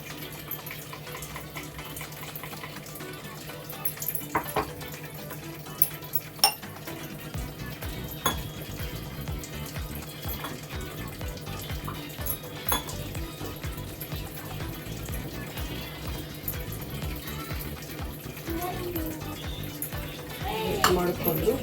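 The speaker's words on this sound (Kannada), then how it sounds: "ಈಗ ಅದಕ್ಕೆ ರುಬ್ಬಿರೋ ಗಸಗಸೆ ಮತ್ತು ಏಲಕ್ಕಿನ ನಾವು ಮಿಕ್ಸ್ ಮಾಡೋಣ" Ground poppy seeds and cardamom are stirred into cooked moong dal in a pot, with soft scraping and clinking of a utensil against metal and a few sharper knocks, steady and close.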